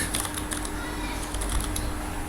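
Keys tap on a computer keyboard that has a fault, giving a quick, irregular run of clicks close by, under soft background hum and someone speaking Hindi.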